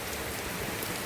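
Heavy rain pours down steadily outside a home in Udupi, a dense continuous hiss and patter on surfaces, loud and unbroken with no voices.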